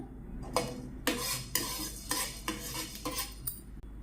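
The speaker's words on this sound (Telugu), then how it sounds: "ఫస్ట్ నేను కొన్ని మిరియాలు తీసుకొని రోస్ట్ చేసుకుంటున్నాను" Black peppercorns dry-roasting in a pan for a Tamil Nadu-style sulaimani masala tea, with repeated rattling scrapes of stirring in a steady rhythm of about one stroke every half second, close and moderately loud with no talking.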